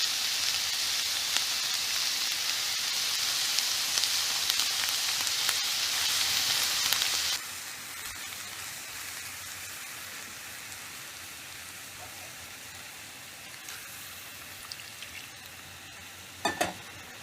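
Flour being stirred into a hot frying pan for a roux, giving a steady bright sizzle that drops to a softer hiss partway through, with faint scraping and a couple of clicks near the end.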